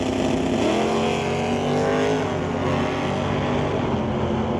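Drag race cars at an NHRA Northwest National Open Series event, a 1995 Camaro among them, roar steadily toward the finish line, a loud sustained engine drone with shifting harmonic tones throughout.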